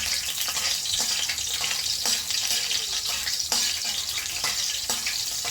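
Garlic frying in a pan, a steady crackling sizzle with faint scraping stirs every second or so, fairly close and continuous, no talk.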